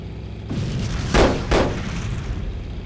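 An aerial bomb dropped in the Aces High flight combat game bursts on the ground with two heavy, booming explosions in quick succession, loud and close, without speech.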